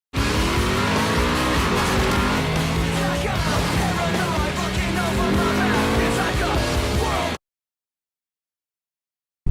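A 2018 Mercedes-AMG GT R with a 585 hp engine tears around a racetrack, its loud engine roaring through rising gear pulls with tire squeal, then cutting abruptly to silence; faint voice may sit beneath.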